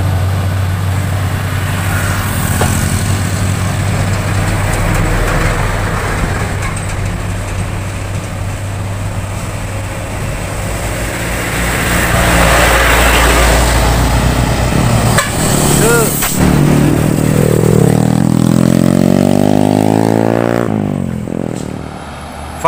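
A loud, steady roar of a FAW JH6 truck loaded with cotton overtaking on the road, its engine rumble swelling as it draws alongside near the middle, then shifting and fading toward the end.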